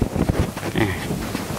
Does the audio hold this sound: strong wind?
yes